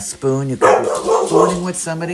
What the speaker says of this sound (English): My apologies for my dog.